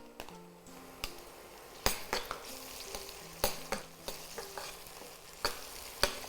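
Onions and tomato sautéing in a pan for a vegetarian prawn thokku, a quiet sizzle punctuated by repeated sharp spoon knocks and scrapes against the pan at uneven intervals.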